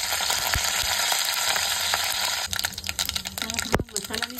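Mustard seeds and curry leaves sizzle loudly in hot oil for a Marathi corn curry, a dense steady crackle and hiss close by that turns choppier with sharp spits and pops as the leaves go in.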